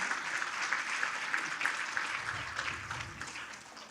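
A fundraiser audience applauds the donors, a continuous round of clapping from many people that holds steady and then gradually tapers off.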